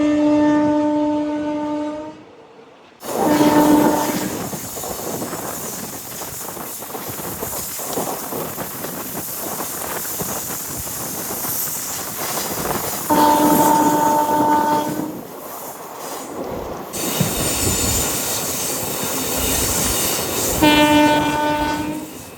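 A passenger train from Guntakal to Markapur Road rumbles steadily along the tracks with rhythmic clatter, its horn blaring loudly at the start, midway and near the end.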